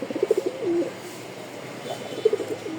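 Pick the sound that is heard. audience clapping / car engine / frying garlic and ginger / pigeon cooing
pigeon cooing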